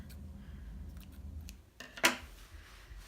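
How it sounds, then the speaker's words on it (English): Scissors give a single sharp snip through a yarn end on a loom-knit mitten, a close, crisp cut after some quiet handling rustle. "Oops, I forgot to snip this end."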